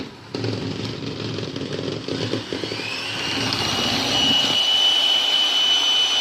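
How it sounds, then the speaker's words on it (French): An electric hand mixer whips egg whites for tiramisu, a loud steady whirring drone that rises in pitch and holds a thin whine as the whites stiffen, with no talking. "on est en train de mixer les blancs d'œuf"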